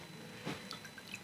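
Wood lacquer dripping off a stir stick, a few small soft drips and wet plinks in quick irregular succession, close and quiet above a steady hiss.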